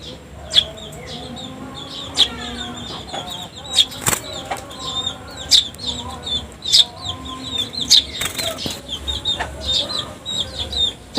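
A 16-day-old young house sparrow learning to fly makes repeated quick bursts of wing flapping, with frequent sharp chirps and tweets close by and faint clucking fowl in the background.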